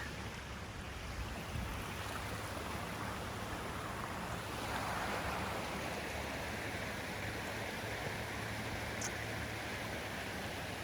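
Creek water flowing steadily through Lithia Park in Southern Oregon, below a reservoir, a continuous soft rushing wash heard alone without talk.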